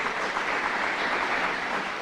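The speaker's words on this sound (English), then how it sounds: "a round of applause." A crowd at a press conference with the governor in Rochester, held at a Boys and Girls Club, gives steady, dense applause. It forms an unbroken wash of clapping for about two seconds, with no voices on top.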